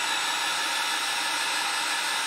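A small blow dryer runs steadily close by while drying alcohol ink, a constant loud airy whoosh with no change in pitch or level.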